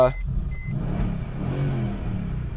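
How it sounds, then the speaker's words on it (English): A 2017 Mercedes-Benz CLS63 S engine turns over and settles into a low, rumbling idle with a gruff, uneven grumble, close by. "The engine starts up nicely and gives a nice old grumble too when you start up."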